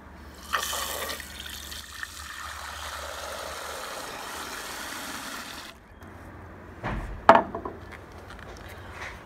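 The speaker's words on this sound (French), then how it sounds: "remplissons le cristallisoire aux 2/3 d'eau" Water runs steadily from a tap into a glass crystallizing dish in a lab setting, a continuous rushing pour lasting several seconds before stopping, followed by a few brief clinks and splashes.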